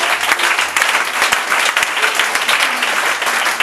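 A church congregation applauds together, loud and close, with a dense, steady patter of many hands clapping throughout the short burst.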